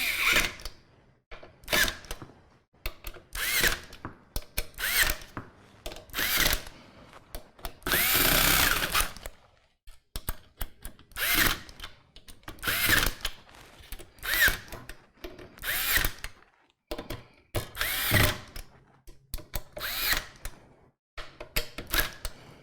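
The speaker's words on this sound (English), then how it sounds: "I think I'm going to back the screwdriver off to a setting of 2." A power screwdriver drives screws into an Enermax Liqtech 360 TR4 II all-in-one liquid CPU cooler, whirring in short repeated bursts with pauses between, close and fairly loud, with no talk.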